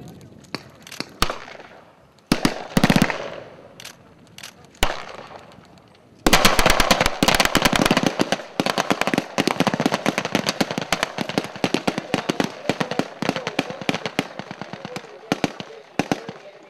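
Soldiers fire their weapons during a military exercise that trains troops for deployment to Afghanistan, starting with a few scattered sharp shots and then breaking into dense, rapid automatic bursts that keep on loudly for the rest of the stretch.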